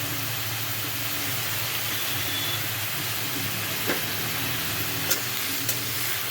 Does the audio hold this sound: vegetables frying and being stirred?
yes